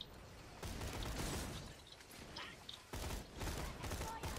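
Rapid rifle fire in Borderlands: The Pre-Sequel, with dense bursts of shots and impact effects that come in two main volleys separated by a brief lull, while a voice talks faintly underneath.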